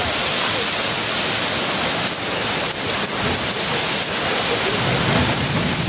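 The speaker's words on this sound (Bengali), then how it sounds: "ঝড় বৃষ্টি হচ্ছে দেখো, আর বিদ্যুৎ এত চমকাচ্ছে" A thunderstorm with heavy rain pours down in a steady, dense roar, with low rumbles of thunder rolling through it, continuous and loud around a house.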